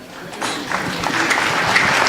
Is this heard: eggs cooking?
no